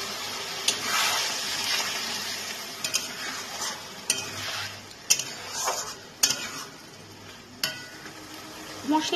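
A ground paste of ginger, garlic and green chili with whole cumin being fried and stirred in oil for a fish-head kalia: continuous sizzle broken by repeated sharp scrapes and clinks of a spatula against the pan.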